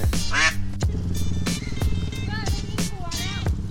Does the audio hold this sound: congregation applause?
no